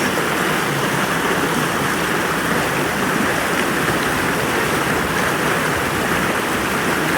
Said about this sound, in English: Focusing in on the sound of the water.